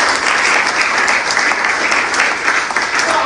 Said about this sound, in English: So please, one more clap for Omoyele.